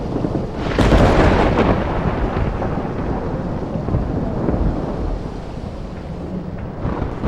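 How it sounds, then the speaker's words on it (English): Rolling thunder from a thunderstorm in the video game Life is Strange Remastered, a loud, broad rumble that swells near the start and then settles into a steady, heavy roar with rain-like noise to the end. "And then I guess it's the eye of the storm."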